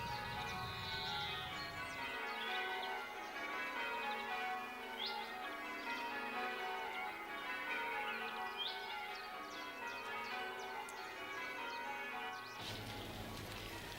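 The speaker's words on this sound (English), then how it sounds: "It's a long time since we heard those bells." Church bells ring continuously in a rich, overlapping peal, with faint bird chirps scattered above the steady clang.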